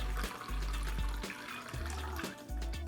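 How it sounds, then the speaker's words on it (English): Warm eggnog custard for crème brûlée eggnog streams through a mesh strainer in a steady liquid trickle, with soft low gurgling bumps throughout, close and fairly quiet. "And then pour this through a mesh strainer."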